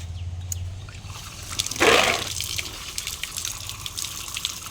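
Tap water runs and trickles into a sink while plants are rinsed before packing, swelling briefly into a louder splash in the middle and then settling back to a soft, steady flow.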